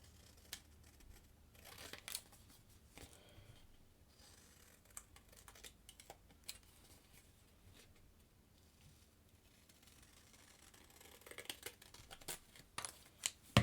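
Quiet, intermittent snipping and crisp paper rustles, with irregular short cuts clustered near the start and end.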